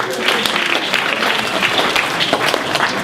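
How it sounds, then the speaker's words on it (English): A crowd at a live performance night applauds for about three seconds, a steady, even wash of many hands clapping. "give yourselves a round of applause"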